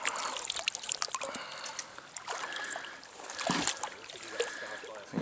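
Freshly caught stocked trout being rinsed in river water on a Wisconsin trout season opener, soft splashing and trickling with irregular small sloshes close by, low in level with no talking.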